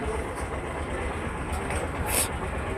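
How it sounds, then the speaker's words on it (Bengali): A train rumbles steadily past a closed level crossing gate, a loud continuous low roar with faint squeals on top, heard up close for a few seconds. "গেট মানে ট্রেনের গেট পড়েছে ট্রেন ঢুকবে তাই"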